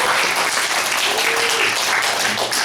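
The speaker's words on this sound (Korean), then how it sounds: "하나님께 영광의 박수를 돌리겠습니다" Church congregation applauding together, a steady dense wash of many hands clapping at even loudness from start to finish with no talk on top.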